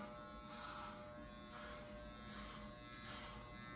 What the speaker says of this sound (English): Just shaving it down in the back.